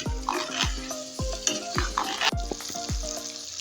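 Chopped potatoes fry in a pan with chicken and tomato, a bright sizzle punctuated by a regular series of sharp metal knocks and scrapes from stirring, close and without talk.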